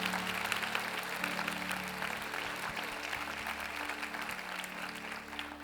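A church congregation applauds in a sustained, dense clatter of many hands at moderate volume, with a low hum of the room beneath.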